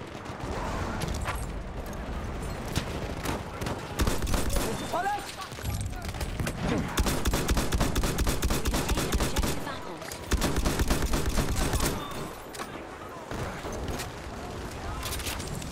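Dense, sustained World War I gunfire and distant explosions in Battlefield 1, with near rifle shots repeating against a constant battle din and someone talking over it.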